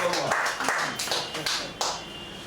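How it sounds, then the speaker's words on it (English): A handful of claps break out in scattered bursts at a talk on compassion, uneven and close, with voices speaking over them. "I would like all of us to please clap for this unknown gentleman"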